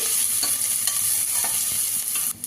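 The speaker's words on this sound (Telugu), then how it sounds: "ఇలా వేగిపోయాక ఉల్లిపాయలు పచ్చిమిరపకాయలు వేసుకోవాలి ఇవి కూడా కొంచెం బాగా వేయించుకోవాలి" Onions and green chillies fry in hot oil for rose fried rice, a steady close sizzle broken by light stirring scrapes.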